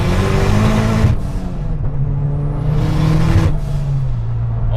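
A 500 HP Caliber SRT-4 accelerates hard in second gear, the engine rising loud and close, briefly dropping off before surging again with a whine climbing overhead, no talk.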